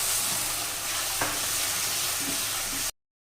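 Spice paste of ground cumin and turmeric for dal is fried in oil and stirred, giving a close, continuous sizzle with scraping strokes before it cuts off abruptly to silence.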